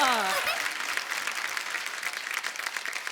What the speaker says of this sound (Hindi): जोरदार तालियों से स्वागत कीजिए बच्चों का।